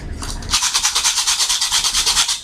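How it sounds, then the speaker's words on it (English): A sandpaper disc meant for a sander, folded in half and rubbed briskly by hand, gives a loud, rhythmic rasping scrape of about fifteen quick strokes after a short lead-in, with no speech over it. "just sandpaper."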